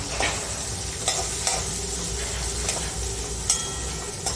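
Onion and carrot frying in a hot pan for a breakfast snack, a steady close sizzle with a few sharp stirring scrapes and clicks of a spoon, no talking.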